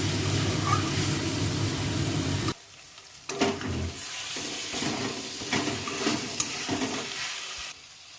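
Potatoes hit hot oil and spice paste in a pan for chicken hearts, a loud steady sizzle that cuts out abruptly, then softer frying with spoon scrapes and stirring clatter returns, close by.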